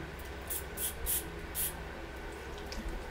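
Bath & Body Works Poppy body spray misted in about four short, close hissing bursts spaced roughly half a second apart, over a quiet room.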